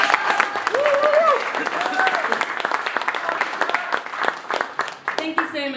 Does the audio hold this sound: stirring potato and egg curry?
no